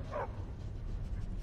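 A dog in the video game Skyrim gives a single short bark near the start, fairly faint over a low rumbling background, followed by quiet ambience.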